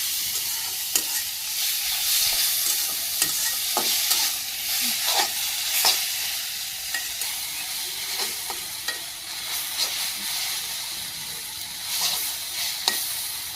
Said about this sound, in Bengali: এই যে আমার পেঁয়াজটা ভাজি করে হয়ে গেছে, এই শাকগুলো ধরে দিচ্ছি, এই শাকগুলো দিয়ে দিই।